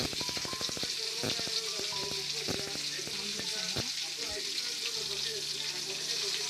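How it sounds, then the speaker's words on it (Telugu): Fish frying in a pan for a home-style Guntur fish fry, a steady close sizzle of hot oil with sharp clicks and taps as the pieces are turned over, no voices. "ఇలా తిప్పి రెండో వైపు కూడా చక్కగా ఏగేలా చూసుకోవాలి."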